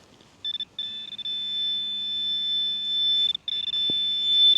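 A metal detector gives a steady, bright electronic tone that holds for several seconds with a couple of short breaks, loud and close over faint background noise, with a single knock near the end.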